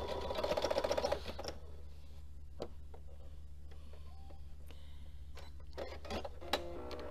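A sewing machine stitches fabric in a fast rhythmic run of needle beats, then stops, leaving sparse clicks and mechanical ticks over a low hum.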